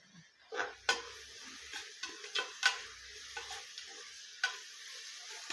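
Green chillies are tossed into a pan and stir-fried at a cooking class. A faint sizzle runs underneath, and close, sparse spatula clicks and scrapes recur irregularly, with no talking.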